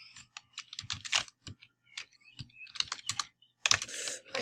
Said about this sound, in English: I suck at typing.